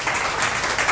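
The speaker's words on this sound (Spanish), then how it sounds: "Denle un aplauso al Señor por eso." A church congregation applauds during a Spanish-language sermon, a brief dense burst of many hands clapping together at close range.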